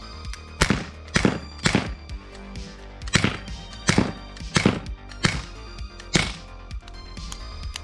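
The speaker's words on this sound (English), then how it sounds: "We're just gonna fire it just straight into a cushion over there." SIG Sauer P226 CO2 blowback air pistol fired into a cushion, eight or so sharp thunking shots in irregular pairs and singles, loud and close with no talking.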